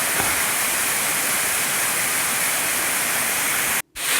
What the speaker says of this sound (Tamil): இது தாங்க நம்ம பார்க்க வந்த முதல்ல பெரிய அருவி டாபர் ஹோல் அருவி